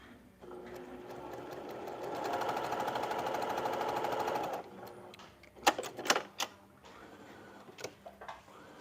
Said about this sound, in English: Amazing what happens when you actually thread your machine correctly. It sews nice.